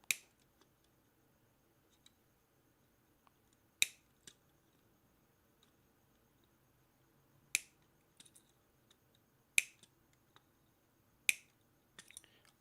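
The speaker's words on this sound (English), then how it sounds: "I like the sound of that snap right there." A part snaps into place on a 1957 Chevy Nomad body during interior work in a shop, heard as a few sharp, isolated clicks and snaps spaced several seconds apart over a quiet room.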